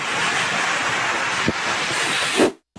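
Typhoon Nando lashing the coast of Gonzaga, Cagayan, with seawater surging onto the road: loud, continuous roar of surf and strong wind buffeting the microphone, a brief thud midway and a swell of gusting noise before a sudden cutoff.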